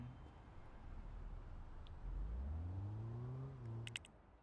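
A car in the video game Big Ambitions starts off, its engine note climbing steadily as it accelerates over a low background hum, followed by a short burst of electronic beeps near the end.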